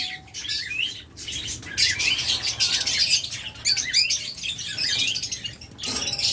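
Lovebirds in a Bangladeshi pet shop give dense, overlapping high chirps and squeaky calls in quick bursts, near and lively, with brief lulls and no talk.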